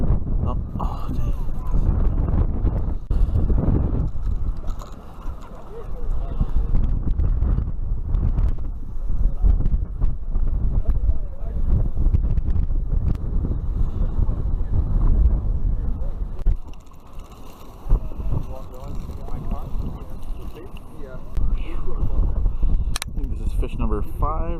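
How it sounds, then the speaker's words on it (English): Strong, cold wind buffets the microphone in continuous heavy gusts while trout fishing outdoors, rumbling low throughout, with a person talking underneath. "It's cold, really cold, really windy."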